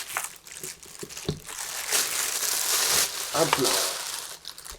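Cardboard and plastic packaging crinkle and rustle steadily as a Thrustmaster HOTAS Warthog throttle is unboxed, loud and close, while someone talks briefly over it.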